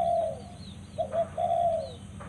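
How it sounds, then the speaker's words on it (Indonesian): A pucung bird gives clear, hollow whistled calls outdoors: one drawn-out note, a short pause, then two more in quick succession over a low, steady background hum. "Burung pucung teman-teman."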